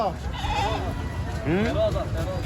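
Goats bleat at a busy rural livestock market where cattle and goats are sold, with two or three wavering calls close by over a constant crowd murmur and voices.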